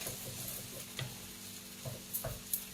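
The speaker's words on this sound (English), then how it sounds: "just give a quick stir" Seafood instant noodles being stirred in a pan, with a steady soft sizzle under scattered scraping and clacking of the utensil, close and fairly quiet, no talking.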